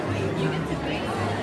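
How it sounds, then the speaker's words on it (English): Crowd chatter inside a community college's performing arts center before President Biden's remarks, a steady indistinct murmur of many voices at moderate loudness. "We have a crowd that have gathered here for President Biden remarks inside the Center for Performing Arts."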